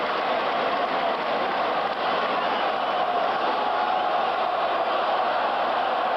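Roar of a football stadium crowd at a 1986 NFL game, Philadelphia Eagles at New York Giants, urging the Giants before a fourth down, a dense, steady wall of cheering that stays loud and unbroken throughout.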